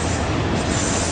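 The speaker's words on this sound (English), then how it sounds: "It's obvious this was an auto carrier or cattle train" Empty freight train cars, auto carrier or cattle wagons, rumbling past close by as a steady, dense roar with faint wheel and rail noise and no voices.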